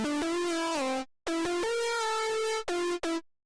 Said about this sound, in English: which is adding clip distortion. Fully maxed out, sounds like this.